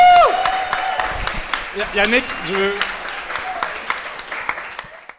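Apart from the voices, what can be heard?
audience applause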